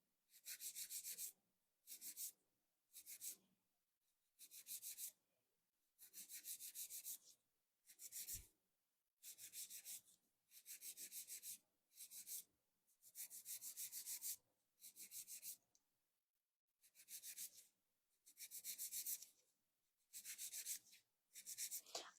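A nail file rasps across a fiberglass artificial nail in steady back-and-forth strokes, each burst of close, dry scratching separated by short pauses, repeating about a dozen times with no talking.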